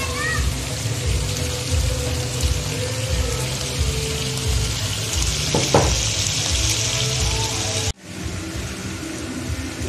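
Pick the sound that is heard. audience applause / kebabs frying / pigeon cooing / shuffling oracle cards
kebabs frying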